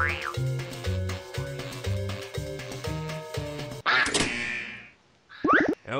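Quacking duck sound effect repeated in a quick, bouncy rhythm, loud and close, followed by a sharp burst of a different effect and a brief gap before a final short noise.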